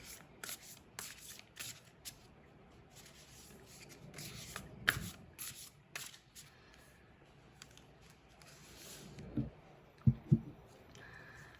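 Tarot cards are shuffled by hand in soft, quiet bursts of rustling and riffling, with a few sharper snaps toward the end.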